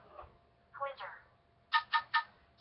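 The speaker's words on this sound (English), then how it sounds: "that was my phone" A mobile phone rings indoors: faint tonal chirps first, then three quick, evenly spaced ringtone pulses that stand out clearly against the quiet room.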